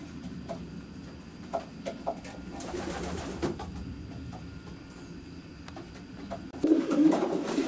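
Racing pigeons in a long-distance racer's loft give soft, low cooing and scattered fluttery ticks and taps, with a louder burst of cooing and rustling near the end, all fairly close and without talk.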